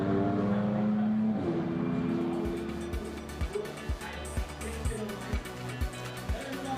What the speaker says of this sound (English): the number 66 car, there it is, cruising back in